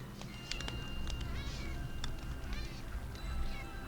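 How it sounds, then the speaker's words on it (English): A house cat meows loudly and repeatedly indoors, a string of drawn-out, wavering cries and yowls coming in close succession over a low background hum. "Sounds like a cat's dying up there."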